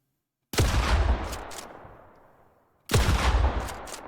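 Two loud, close bursts of video game gunfire triggered by clicks of a Logitech G Pro X2 Superstrike mouse, each a sharp crack with a rattling tail that fades away before the next burst.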